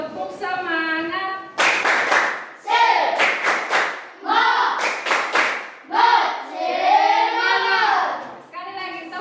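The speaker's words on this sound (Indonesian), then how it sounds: "Tepuk semangat." Children in an Indonesian classroom perform a spirit clap, sharp bursts of rhythmic hand claps in quick clusters, alternating with a voice leading and the class chanting along.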